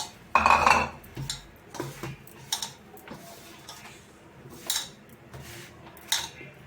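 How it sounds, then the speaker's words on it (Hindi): A cook tips a mixture into a large parat and mixes it with salt, making scattered clinks and scrapes of metal utensils, with one louder clatter early on and then softer irregular knocks, close by and without talk. "तो ये ले ली मैंने परात, इसमें मैं इसमें पलट दूंगी, अच्छे से मिक्स हो जाएगा।"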